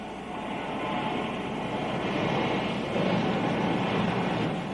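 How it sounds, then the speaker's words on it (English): Water from a wash shower sprays over a Union Pacific Big Boy steam locomotive, a steady broad hiss and rush that holds at an even level throughout with no voices. "The locomotive first was pushed through a shower, then finished by hand."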